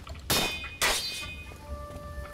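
A small bell rings twice in Shadow Warrior, two bright metallic strikes about half a second apart, each leaving a clear ringing tone that fades slowly, with no talk.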